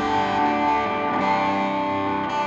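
Electric guitar played through an Epiphone Studio 15R amplifier with an 8-inch speaker and reverb, sustained chords ringing out with a dense, slightly distorted, washy tone, loud and close with no voices.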